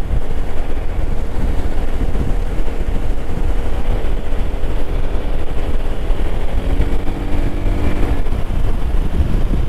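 A Yamaha Tricity 300 scooter ridden at night with the throttle open, a loud steady engine drone mixed with heavy wind rush, continuous throughout.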